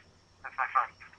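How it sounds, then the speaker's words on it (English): A phone gives a short electronic ringing burst of a few pulses, soft and close, alone in a quiet room. "Yeah, that's my phone."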